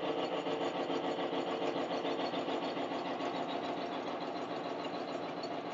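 An electric motor runs steadily under a 20-pound load during a friction test with lubricant, giving a continuous even hum with a fine rapid mechanical flutter at moderate, unchanging volume.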